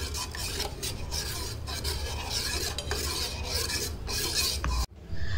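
A spoon stirs jaggery melting in a cup of water in a pot, giving steady scraping and swishing strokes against the metal, close and continuous, with a brief pause near the end.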